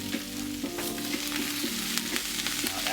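Onions and kale fry in a pan on a multi-burner stovetop, a steady close sizzle broken by a few soft scraping stirs, with no talking.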